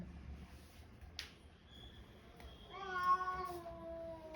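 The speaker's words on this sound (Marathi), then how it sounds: "हा मांजर हे" A house cat meows in a drawn-out, rising call near the end, following a quiet stretch with a sharp click; close and clear over low background hum.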